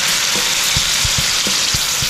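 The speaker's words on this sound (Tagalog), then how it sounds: "Lagyan na natin ng toyo." Soy sauce hits pork belly frying in rendered fat, giving a loud, steady sizzle with a few soft stirring knocks spaced through it; no voices.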